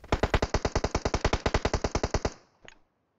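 Automatic gunfire from the mobile game PUBG Mobile, a rapid steady burst of about twenty evenly spaced loud shots, followed by a brief fainter rattle and then silence.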